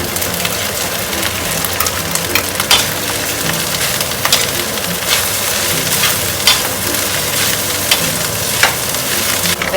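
Fried rice with anchovies being stirred in a hot pan for kampung-style nasi goreng, a steady bright sizzle with scraping spatula strokes throughout, close and continuous.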